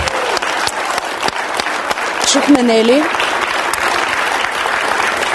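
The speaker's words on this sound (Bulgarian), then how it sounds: "За нея са аплодисментите." Studio audience applause on a Bulgarian TV talk show, steady broadband clapping throughout. A brief spoken phrase and a short sung or vocal tone rise above it midway.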